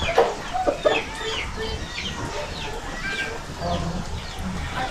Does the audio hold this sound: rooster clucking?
yes